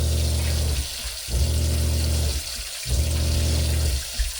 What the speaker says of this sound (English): now I'll just top her off with water